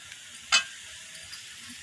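Cabbage is stir-fried and sautéed in a pan with a faint, steady sizzle and a single sharp utensil clack against the pan.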